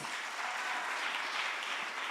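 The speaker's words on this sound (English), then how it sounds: "Can we get a round of applause?" A conference audience at a children's event claps steadily, a dense wash of applause heard from some distance at moderate volume, with no speech over it.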